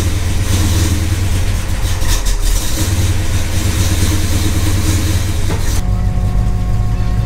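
Carbureted car engine idling just after starting, a loud, steady low rumble close to the microphone that cuts out abruptly near the end, leaving a faint hum.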